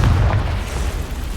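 A Confringo spell explosion in the Hogwarts Legacy video game, a loud, deep booming burst that rumbles heavily at the start and then thins into a sustained roar, with no talking.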